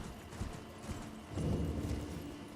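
Horse hooves clatter at a quick, rhythmic gallop in the Elden Ring video game, close and steady, growing louder and denser in the second half with no talking.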